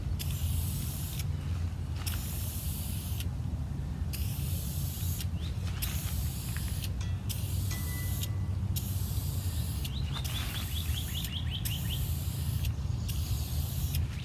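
Krylon polyurethane sealer sprays from an aerosol can over chalk paint in straight rows, a loud continuous hiss broken into repeated bursts as the nozzle stops and starts, with a steady low background rumble outdoors.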